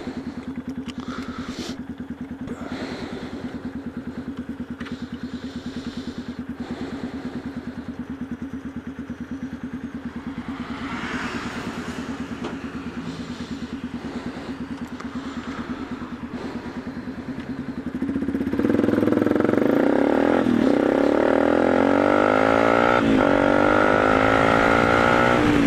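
A Yamaha Ténéré 250 motorcycle engine rumbles steadily nearby at night, then revs up louder toward the end with rising, rattling tones.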